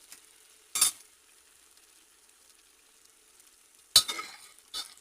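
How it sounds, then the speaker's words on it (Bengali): Beaten egg is fried and stirred with chickpea curry, heard as three short scraping stirring bursts in the pan separated by near silence. "একটা ডিম ফেটিয়ে দিলাম, দিয়ে সেটাকে ভাজা ভাজা করে নিয়ে কষে নিয়ে"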